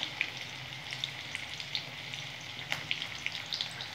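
Prawn pakora frying in hot oil, a steady close sizzle with scattered pops and crackles throughout, no talking.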